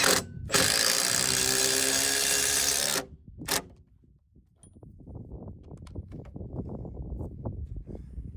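A ratchet wrench tightens a bolt on a hold-down coupler at the base of a framed shear wall: loud, fast continuous clicking for about three seconds and a short burst, then quieter scattered clicks and taps.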